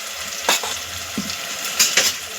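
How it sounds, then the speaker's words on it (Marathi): Tomato, spring onion and ginger-garlic paste sautéing in a pan for a spiced rice dish, with steady close sizzling and a few scraping stirs of a spoon against the pan. "आता आपण त्यामध्ये टोमॅटो आणि कांदा पात हे टाकून घ्यायचे, ते परतून घ्यायचं 2 मिनिटं।"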